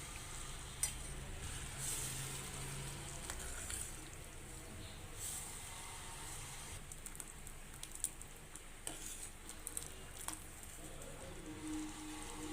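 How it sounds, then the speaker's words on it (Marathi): Bottle gourd curry with dal and peanut powder boils in a pot, giving a steady, close bubbling hiss scattered with small pops and crackles, with no voices. "इथे रश्याला चांगली उकळी आलेली आहे आणि आपण याला शेंगदाण्याचा कूट टाकून देणार आहोत"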